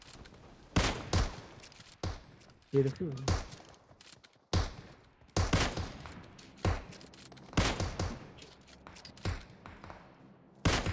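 Kar98k rifle shots and other gunfire in PUBG Mobile war mode, loud sharp bursts repeating irregularly through the clip, with players talking in between.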